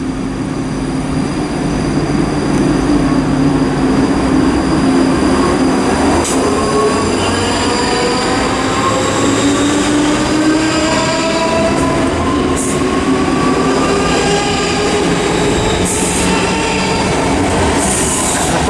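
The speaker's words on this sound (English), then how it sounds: "This is 334026. It's departing with a ScotRail service to Helensburgh Central." A ScotRail Class 334 electric train pulls out of Haymarket station in Edinburgh, its motors whining upward in pitch while wheels squeal and rumble on the rails, loud and close throughout with no speech.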